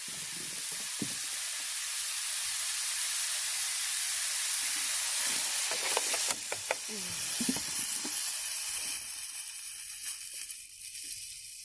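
Food with chives steams and sizzles in a pan with a little added water over low heat, a soft, continuous hiss with occasional brief crackles and stirring clinks nearby.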